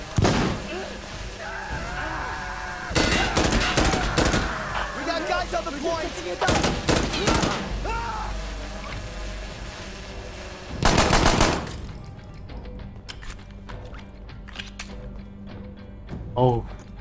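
Rapid bursts of automatic gunfire and single shots in the video game Insurgency: Sandstorm, played without a HUD in a local urban-combat match. The bursts are loud and come in clusters, separated by quieter stretches of game ambience.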